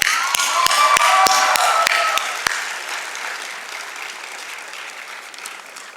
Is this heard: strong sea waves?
no